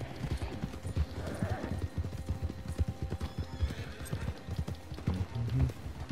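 A horse in a video game gallops with rapid, steady hoofbeats throughout and neighs loudly near the start and again toward the end, close and prominent.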